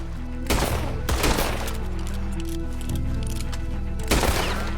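Video game gunfire rings out in several sharp, loud bursts spaced a second or more apart, over a steady background of game ambience and music.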